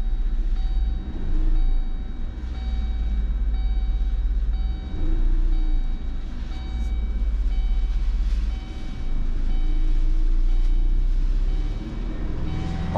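A 2005 Kia Sportage with throttle position sensor and idle control faults idles near 800 RPM, a loud, low, steady engine rumble that swells in slow waves as the revs climb on their own, with no one talking.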